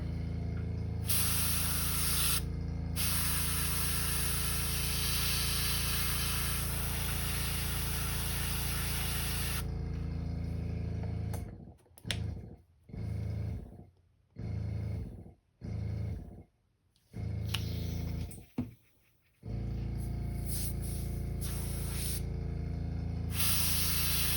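Loud continuous hissing spray from a paint sprayer painting a crankbait fishing lure, broken midway by a series of short bursts and pauses before resuming steadily.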